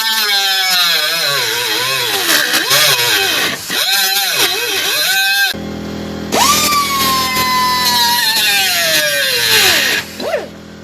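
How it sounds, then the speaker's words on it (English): A cutoff wheel grinds through the body flange of a 1955 Cadillac Coupe Deville, with a loud whining tone that rises and falls as it bites into the metal, briefly pauses, then cuts again. "go straight up between the two flanges with the cutoff wheel"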